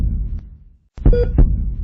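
A patient's heartbeat, back to a normal rhythm after nearly 45 minutes of resuscitation, comes through as muffled low thumps, with a brief pause before a close lub-dub pair.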